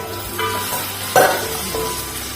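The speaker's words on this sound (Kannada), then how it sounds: "ಒಗ್ಗರಣೆಯಲ್ಲಿ ಚೆನ್ನಾಗಿ ಬೇಯ್ತಾ ಉಂಟು" Ladies finger (okra) fries in a spice tempering, a close steady sizzle broken by a few scraping stirs, one sharper and louder than the rest; no talking.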